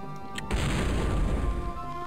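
A deep rumbling boom of explosive grenadier shots striking a barbarian enemy in a video game, a sudden heavy blast that lingers as a dense low roar, loud and with no talking.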